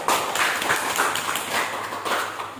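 A class claps steadily and densely for a student group, a continuous wash of applause that lasts the whole short stretch.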